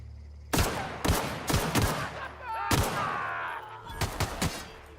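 Gun fired in The Outer Worlds: a series of sharp, loud single shots in irregular quick succession, about eight in all, with a brief whirring sound in between.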